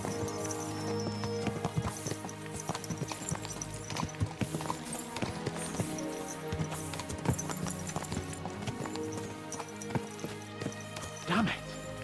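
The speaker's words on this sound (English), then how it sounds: "Let's really spur these horses on, eh?" Horses gallop in the video game Kingdom Come: Deliverance 2, a dense, steady clip-clop of hooves running throughout under a busy game soundscape.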